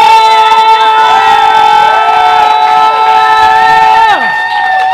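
A live poetry slam crowd cheers and whoops in long, loud, sustained voiced shouts that hold steady and then slide down near the end.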